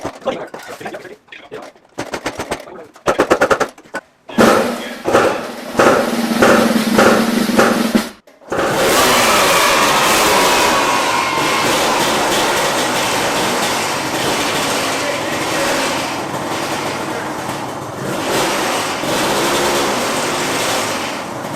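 A Kawasaki KX250 two-stroke engine on a go-kart sputters through short uneven bursts, then settles into a loud, continuous high-revving roar close by, running steadily in freezing cold conditions.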